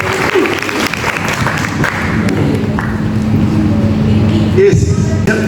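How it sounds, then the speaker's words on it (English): Audience applause at a Māori song and dance performance, steady clapping from a crowd sustained throughout over a dense low rumble, with a few voices mixed in. "Ladies and gentlemen, please round of applause for these beautiful people."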